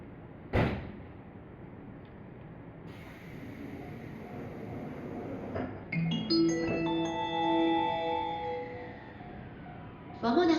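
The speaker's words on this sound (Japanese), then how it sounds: "3番線ドアが閉まります。" Train doors sliding shut at Kinshicho station, Tokyo: a sharp thud at the start, then door chime tones and a rising electric motor whine of a train on the platform, with station ambience and a loud clunk near the end.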